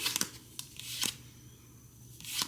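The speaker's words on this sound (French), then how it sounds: "Puis je vais brasser le jeu." A deck of playing cards is shuffled up close in a few quick riffling bursts with short pauses between them, soft and crisp.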